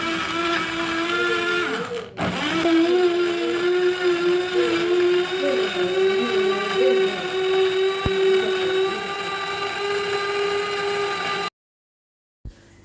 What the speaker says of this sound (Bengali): এবার তরমুজটাকে ব্লেন্ডারে দিয়ে তরমুজের রসটা বের করে নেব।